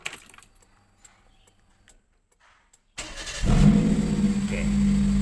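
A Perodua Kembara with a K3 engine cranks and fires up after a quiet pause with a few small clicks, settling into a loud, steady idle close by.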